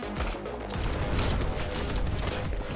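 Dense, continuous bursts of gunfire and crackling explosions from the video game Brotato, a loud chaotic barrage of overlapping shots with no pauses.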